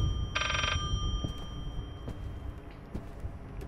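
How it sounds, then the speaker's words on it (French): A telephone ringing in the horror video game Layers of Fear: one short, bright electronic ring burst near the start, fairly loud over a low rumbling ambient background, followed by scattered faint clicks. "Téléphone."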